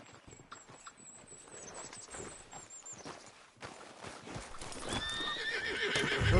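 A horse in the video game Red Dead Redemption 2 clip-clops along at a walk, then lets out a loud, close whinny near the end, over quieter ambient outdoor sound.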